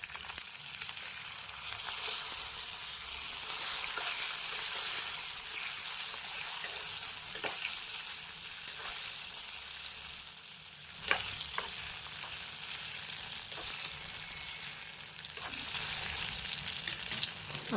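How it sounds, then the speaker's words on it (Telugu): Curry leaves, mustard and other tempering seeds, dried red chillies and a little cumin fry in hot oil for tamarind rice, giving a steady close sizzle with occasional brief louder crackles and stir sounds, without speech. "కరివేపాకు, తాలింపు గింజలు, అలాగే ఎండుమిరపకాయలు, కొంచెం జీలకర్ర అన్నీ యాడ్ చేసి వేడి ఆయిల్లో తాలింపు వేయాలి"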